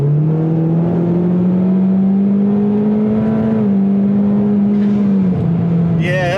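A car engine with a new ignition and an aux setup revs hard and pulls at high RPM, giving a loud, steady, close droning note that climbs slightly, then dips near the end.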